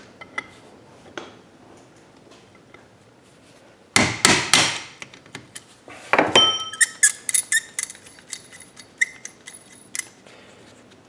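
A brass drift is hammered against a coilover adjuster on the rear suspension of a 2010-2015 Camaro, giving two sharp bursts of metallic blows followed by a run of lighter clinks and taps, close and loud.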